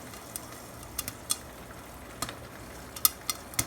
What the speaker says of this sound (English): just take it out of the bag, pop in a frying pan, crank it to high,